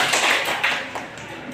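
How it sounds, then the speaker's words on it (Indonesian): A classroom of pupils claps briefly at the end of a student's presentation, a short burst of close, bright clapping that fades within a second and a half. "Tepuk tangan."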